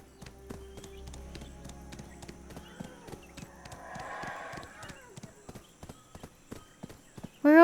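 Horse hooves clip-clop steadily in the online role-playing game Black Desert Online, a rhythmic series of sharp, fairly close hoofbeats heard over background game music and ambient effects.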